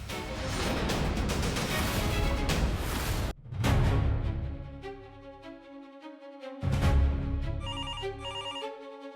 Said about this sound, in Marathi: ठीक आहे छवी, पाटलांना फोन लाव, मला बोलू करते.